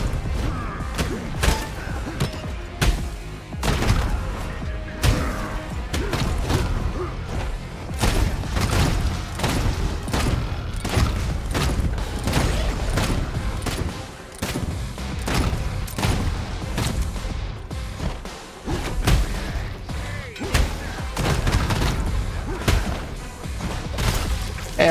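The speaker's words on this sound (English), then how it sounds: "I had concerns about the big gun, but it is pretty satisfying." A big gun in the shooter game Kiborg fires in a dense, relentless stream of heavy booming shots, loud and close, with thuds and crashes overlapping throughout.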